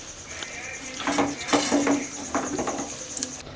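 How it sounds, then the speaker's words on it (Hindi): A spoon stirs green chili curry in a cooking pot, giving a few soft scrapes and light metallic clinks at moderate volume against a steady background hiss. "अब इसे अच्छे से हिला देंगे और 5 मिनट तक पकाएंगे।"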